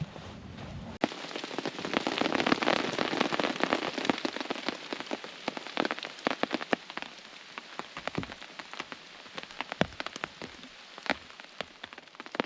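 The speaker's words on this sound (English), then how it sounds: "The rain's been coming down all night. I've had to tidy the area and I've been squaring camp away, and I've just been sitting here listening to the rain." Steady rain patters on a tarp over a woodland camp, a dense continuous hiss with sharp drips and taps scattered throughout, close and fairly loud, with no voices.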